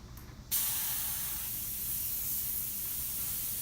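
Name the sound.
spray gun applying primer coat to a car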